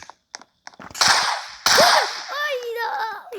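Gunfire in a Roblox game on a central map: a loud burst of shots around the one-second mark and another near 1.7 seconds, followed by ringing, wavering tones, with a few softer clicks before.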